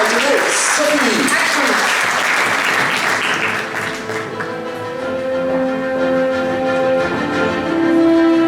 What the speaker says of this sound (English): A big round of applause for Sophie